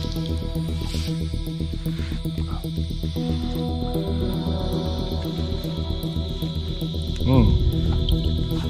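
Drinking water drips from a freshly cut vine in a remote Mexican jungle, with soft wet drops and squishy sounds under people talking and a steady insect-like hum in the background.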